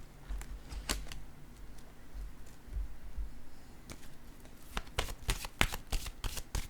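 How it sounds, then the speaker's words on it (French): Tarot cards being drawn and laid down, a run of quick papery snaps and slaps that cluster near the end, heard close against a quiet room with no talking. "Je vais piger une autre carte, là. Je vais déposer celle-ci ici."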